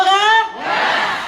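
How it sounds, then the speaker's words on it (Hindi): A crowd at a success-story talk gives a brief, loud burst of cheering and shouting, with a single raised voice at the start followed by a wash of crowd noise. "एक बार जोरदार ताली आप सभी के लिए"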